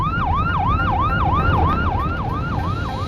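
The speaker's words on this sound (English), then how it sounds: "When he heard the siren, the off-duty paramedic pulled over." A sheriff's patrol car siren wails steadily in a fast, repeating up-and-down sweep, loud and close throughout with a low road rumble underneath and no pauses.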